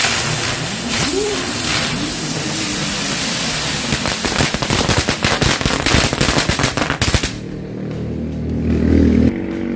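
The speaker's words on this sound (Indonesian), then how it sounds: "selanjutnya kita cobain mercon bunga teratai. Ini bisa berputar seperti gangsing" A lotus-flower firecracker spins like a top on the ground, giving a loud, close, continuous crackling hiss with rapid pops that builds and then stops abruptly. Faint voices are heard around it.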